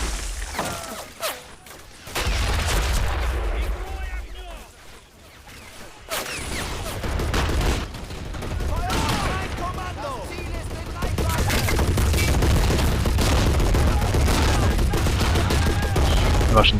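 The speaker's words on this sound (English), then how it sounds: "those German MG positions are absolutely devastating here. They've got multiple emplacements, MG34s and MG42s." Sustained German MG34 and MG42 machine gun fire from multiple emplacements in the Men of War battle game, dense rattling bursts with loud booming impacts, continuing throughout under a commentator's voice.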